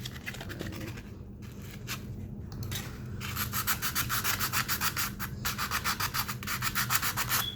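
100 grit sandpaper is rubbed by hand over a cracked radiator, giving close, rhythmic scratchy strokes that start sparse and become faster and louder, with no talking.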